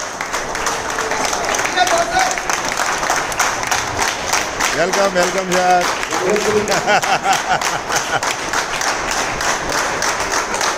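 Standing audience applauding to welcome a guest at a company head office gathering in Mumbai, steady dense clapping throughout with a host's voice calling out over it and some cheering.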